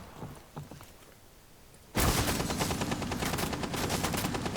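Video game gunfire starts abruptly after a quiet stretch and becomes a loud, continuous, rapid burst of shots that lasts to the end.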